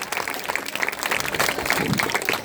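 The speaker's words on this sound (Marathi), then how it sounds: "सर्वांनी टाळ्या वाजवावे" A crowd at a village NSS camp gives steady, dense applause after a drama performance about farmer suicides, with many hands clapping loudly throughout.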